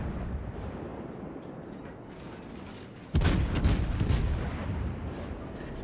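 Henri IV cruiser guns fire rapidly under a reload boost in World of Warships: a loud burst of overlapping booming salvos erupts midway over a steady background rumble of the naval battle.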